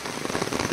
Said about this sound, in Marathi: रात्रभर अजूनपर्यंत पाऊस आहे, रिमझिम